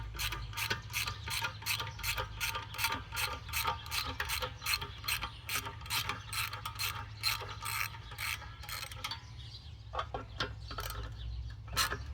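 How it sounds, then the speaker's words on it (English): A socket wrench ratcheting on an old Kohler engine that has sat for many years, a fast series of crisp metallic clicks close up in steady strokes, pausing and resuming near the end, with a rooster faintly in the distance. "We'll just get a socket wrench on there."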